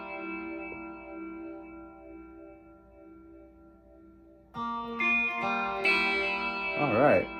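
Fender Stratocaster electric guitar with EMG pickups and a rechargeable battery, played through an amplifier: quiet sustained notes at first, then louder, brighter strummed chords and bends with a chorus-like shimmer, close and alone.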